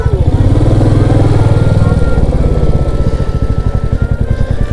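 A motorcycle ridden along a mountain road in Pauri Garhwal, Uttarakhand: a loud, close engine with a steady throbbing idle-to-cruise rhythm and some mechanical clatter, continuous throughout with no talking.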